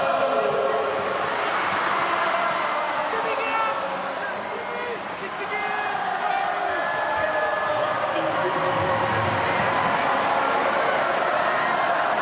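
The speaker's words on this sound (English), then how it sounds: "Just listen to the crowd." Stadium crowd roaring throughout a New Zealand versus Samoa rugby league match at CommBank Stadium, a dense, steady wash of cheering with a brief dip midway, while a commentator talks over it.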